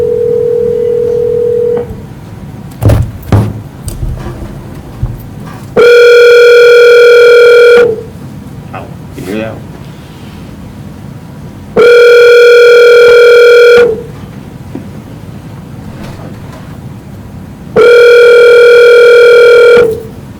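A phone call begins with a short dial tone, then a quick burst of dialing tones and clicks, followed by three long, loud repeating ring-back tones separated by quiet gaps.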